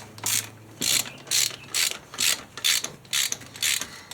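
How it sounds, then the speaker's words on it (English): A ratchet turns during a 421 Super Cub Banshee engine build, giving a rapid, rhythmic series of about ten loud clicking bursts in a steady back-and-forth cadence, close up with no talking. "I'm going to get my torque wrench out here in a minute"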